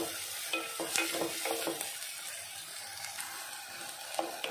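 Onions with two small green chilies and a little salt sautéing in a pan, a quiet continuous sizzle broken by scraping stirs and light clinks, with no talking.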